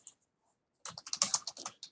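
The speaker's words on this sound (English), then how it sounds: "I was typing stuff just so people could see it" Quick burst of typing on a computer keyboard, a dozen or so crisp close keystrokes in a rapid uneven run after a brief pause, faint and alone in a quiet room.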